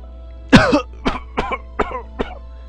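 One harsh cough followed by four shorter, weaker coughs in quick succession, close and loud over a steady low hum.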